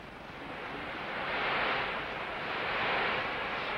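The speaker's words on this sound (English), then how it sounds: "Storm at sea." A storm-at-sea sound effect made with BB shots on a drum head: a steady, loud rushing roar with a hissing edge that swells and eases like wind-driven surf, with no voices.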